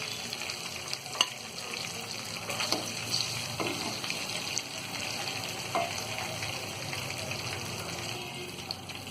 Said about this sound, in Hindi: इसी तरह हम सारी फिश को फ्राई कर लेंगे